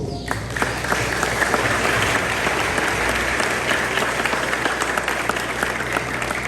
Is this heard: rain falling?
no